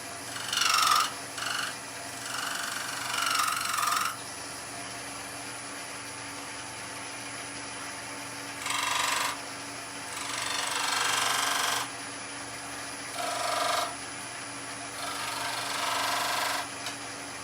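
A wood lathe turns a wooden Christmas tree while a tool cuts in, with repeated bursts of harsh rasping over a steady motor hum, loud and close.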